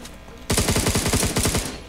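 Machine gun fire in the shooter video game Knives Out bursts in after a short quiet lead-in, a loud, rapid run of shots repeating evenly for over a second before trailing off.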